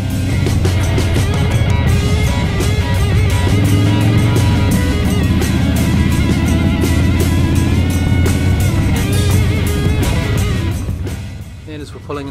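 Group of Harley-Davidson motorcycles riding toward Waihi Beach, a loud steady engine drone with wind rush throughout, fading slightly near the end, as a voice talks over it.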